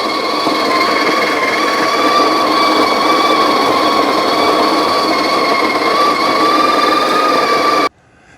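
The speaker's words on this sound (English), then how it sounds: "let's go ahead and grind some coffee" A coffee grinder, used with a Breville Bambino espresso machine, grinds espresso beans in one loud, steady, high whir for about eight seconds. It stops abruptly near the end, and no one talks.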